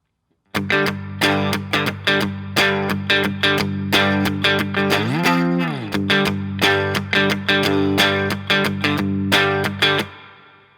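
Distorted electric guitar power chords, starting on G, chug in a steady rhythm of short palm-muted hits, with a sliding chord midway, loud and alone.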